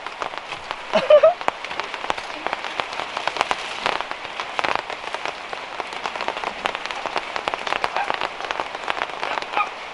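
Rain falls steadily over a roadside stall selling grilled chicken, a dense crackling patter with scattered sharper drops hitting nearby surfaces, continuous throughout with a brief voice near the start.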